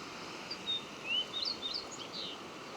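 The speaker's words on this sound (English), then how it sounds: "I can hear the song sparrows and pine siskins. The white-crowned sparrow." Several thin, high calls and chirps of song sparrows, pine siskins and a white-crowned sparrow, short and scattered over a steady background hiss, fairly faint and distant, in Idaho's Boulder Mountains.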